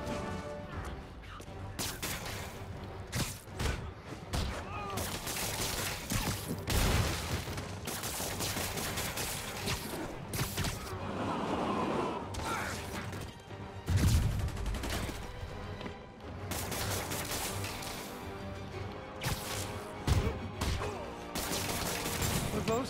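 Heavy gunfire and rocket-launcher blasts rattle through a Spider-Man Remastered battle, bursts of explosive fire and crashes repeating densely and loudly across the whole stretch with game effects layered underneath.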